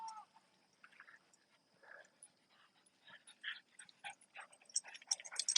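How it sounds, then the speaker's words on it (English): Several dogs bark, yelp and whimper at a distance in short irregular bursts, faint and scattered, growing busier toward the end, with a steady high whine underneath. "The owner of these dogs is trying to call them, but they are totally ignoring her."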